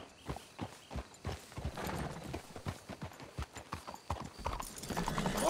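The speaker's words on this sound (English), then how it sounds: "Let's hitch your horses up ahead." Horses' hooves clip-clop steadily at a walking pace in Red Dead Redemption 2, clear and fairly close, with the rhythm quickening and growing louder toward the end.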